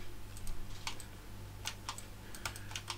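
Several quick clicks scattered at an uneven pace, likely a computer mouse used while drawing a lid in FreeCAD, crisp and close over a low steady hum with no talking.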